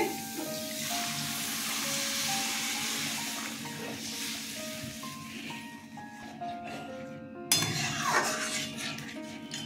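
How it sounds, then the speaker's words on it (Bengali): Water poured into a hot pan of katla fish curry cooked with onion, ginger and green chilli, hissing and sizzling steadily at close range with faint clinks of utensils, a louder burst near the end. "জল দিয়ে দিচ্ছি।"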